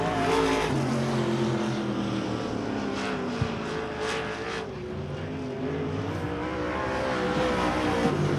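Race cars at Devils Bowl Speedway roaring continuously around the track, a loud sustained engine drone with rising and falling pitch as cars pass, no voices.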